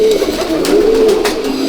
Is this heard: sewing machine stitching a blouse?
no